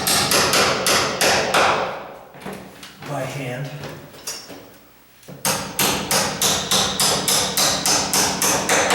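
Hammer blows tapping a loose door hinge, a rapid run of sharp, close metallic knocks that pauses midway for a brief stretch of quieter handling noise and a few words of speech, then resumes in steady repeated strikes.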